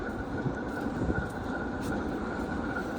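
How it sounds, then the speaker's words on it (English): A cargo train locomotive passes in Brest, Belarus, giving a steady, loud, continuous rumble and rolling hum that holds without a break throughout, with no talk. "Oh, that's your locomotive."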